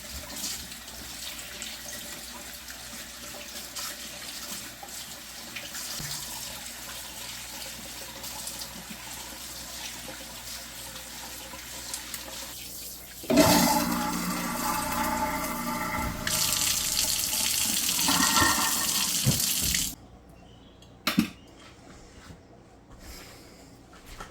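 Whole red beets scrubbed by hand under a running kitchen tap before canning, with a steady stream of water that grows louder and splashier midway, then cuts off, leaving a few faint clinks.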